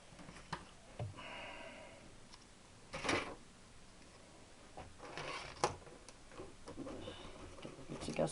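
Scraping old gasket material off engine parts while fitting an external oil filter: quiet, intermittent scratchy scrapes and ticks in short bursts, close by, with faint background noise and no talking.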